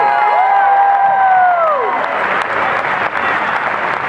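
An audience at a DragonCon 2018 night costume contest breaks into applause and cheering, with a brief whistle-like tone at the start; loud dense clapping and whoops throughout, close and crowded.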